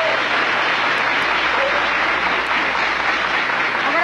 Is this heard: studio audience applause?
yes